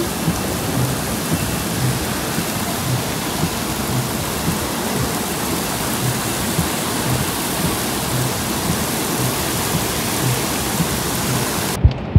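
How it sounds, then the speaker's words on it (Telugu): Heavy rain pours down in a dense, steady roar for the whole stretch, heard from a car parked at the roadside, with no voices, ending in a brief cutoff. "ఈ వర్షం స్టార్ట్ అయ్యి జస్ట్ హాఫ్ అన్ అవర్ అయింది."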